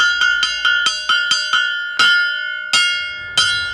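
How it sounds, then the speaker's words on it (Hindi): A metal bell at a village railway station is struck to announce an arriving train, a quick series of bright clangs, then three slower, louder strikes, each ringing out and decaying. No voices. "अगले 5 मिनट में यहाँ ट्रेन आने वाली है, जिसकी सूचना घंटी बजा के दी जा रही है।"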